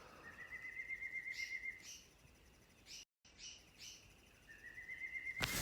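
Birds sing outside in the morning, with thin, faint chirps and drawn-out whistled notes repeating against a quiet background, heard at a distance.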